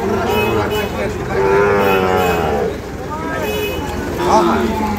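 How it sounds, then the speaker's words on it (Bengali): Sahiwal bull calves moo loudly and repeatedly at a busy cattle market, their long drawn calls overlapping one another against steady crowd babble and people talking nearby. "হবা কেন করছে বারে? কেন হচ্ছে গরুগুলা?"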